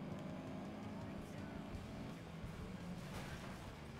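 A car engine drones continuously in the racing video game FlatOut. The roar is steady and fairly quiet, with rough, gritty noise and no clear gaps.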